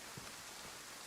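Rain falls steadily in the survival video game DayZ set in Chernarus, a soft continuous hiss of drops on surfaces, faint and even with no voices.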